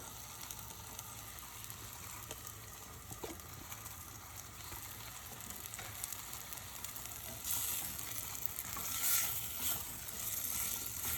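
Cucumber pieces and tomato sizzle while frying in a pan, a steady soft crackle throughout that grows a little louder and busier in the final few seconds, with no voices.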